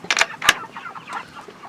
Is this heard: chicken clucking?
yes